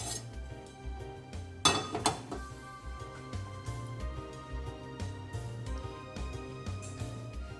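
A metal frying pan set down on a kitchen stove with a sharp clanking knock, followed by a few lighter clinks and rattles of cookware, under a low steady hum of kitchen background.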